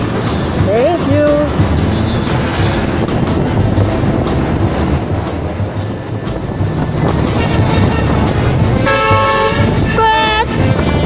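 Horns toot amid loud, dense city traffic at a roundabout on Monumento Circle, heard from a Rusi Gala SC125 scooter; a short rising honk comes early and a brighter burst of horn tones near the end.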